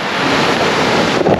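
Strong wind buffets the microphone on the coast at Withernsea during sea fishing in rain, a loud continuous roar with surf-like rushing and no speech.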